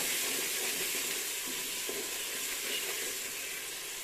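Tomatoes hit hot masala in a pan for aloo gobhi gosht, giving a loud, steady sizzle and hiss of frying close by, with faint stirring scrapes underneath.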